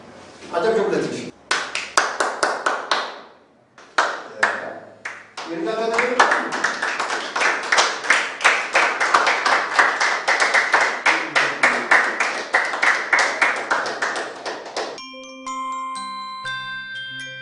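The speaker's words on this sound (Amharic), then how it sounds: "አጨብጭቡለት።" Clapping from a group of people, a dense run of hand claps that rises and sustains for several seconds, mixed with voices and followed by music at the end.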